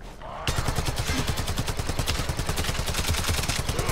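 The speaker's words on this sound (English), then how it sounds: "Oh boy, headshots, Marshall, headshots." Rapid automatic weapon fire in the video game Warframe, a fast steady stream of loud, evenly spaced shots that starts abruptly and runs without pause.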